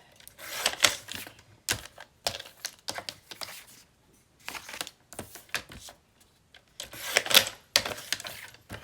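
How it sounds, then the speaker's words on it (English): A portable blade paper trimmer cuts around a page for an altered-book junk journal. There are bursts of sharp slicing strokes, close and moderately loud, separated by brief quiet gaps. "I'm just going to trim all the way around it."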